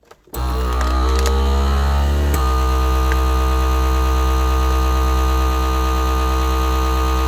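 A FoodSaver vacuum sealer runs steadily on a food bag that will not seal properly, giving a loud continuous motor hum and pump drone that starts suddenly, shifts tone after about two seconds, then holds without pause.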